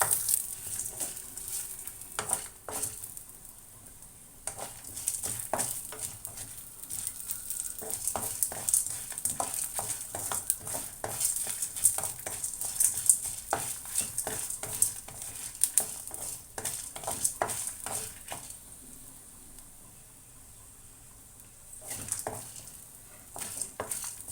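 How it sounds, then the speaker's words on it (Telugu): Peanuts dry roasting in a pan without oil, a quiet dense patter of nuts rattling and scraping as they are stirred, steady and close for the whole stretch, with no talking. "ఆయిల్ లేకుండా కూడా పొడిగా వేయించుకోవచ్చు"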